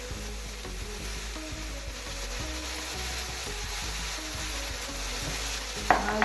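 Meat sauce being stirred in a frying pan, a steady sizzle with continuous scraping and mixing close up, one sharper clack near the end, no voices.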